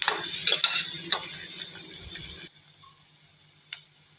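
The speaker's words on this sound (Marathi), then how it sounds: "कांदा चांगला परतून घ्यायचा, मस्त सोनेरी कलर येईपर्यंत छान परतून घ्यायचा कांदा." Chopped onion being sautéed golden in a pan for a Maharashtrian stuffed brinjal dish gives close scraping stirs and a soft sizzle for a couple of seconds, then drops to near quiet with one faint knock.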